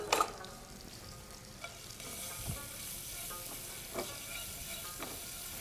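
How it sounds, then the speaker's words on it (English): Crushed garlic sautéing in olive oil in a pan for a sauce, a steady low sizzle with occasional stirring clicks and scrapes, moderately close and fairly quiet, with no talking. "make sure that you add in a little bit of olive oil and some crushed garlic, and you sort of like saute it"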